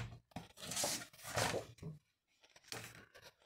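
A paper envelope from Action being cut during a crafting project, heard as two close, crisp bursts of cutting and rustling separated by a short pause, then a softer third burst.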